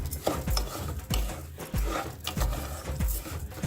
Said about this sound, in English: Two cups of basmati rice, and I'm going to stir it to coat it in the oil.